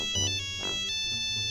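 A Nokia 3210 mobile phone plays its ringtone, a bright electronic melody of short repeated tones, fairly clear and close with no talking over it.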